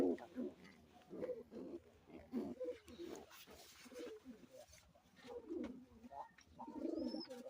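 A pair of white Lotan pigeons in a loft gives soft repeated cooing, quiet and close, with a person talking over it.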